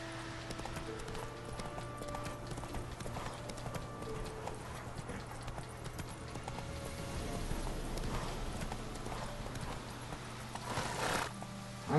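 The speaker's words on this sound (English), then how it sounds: "My horse is going through." Rhythmic clip-clop of horse hooves in The Witcher 3: Wild Hunt, steady and continuous over a low droning hum, with a brief whinny near the end.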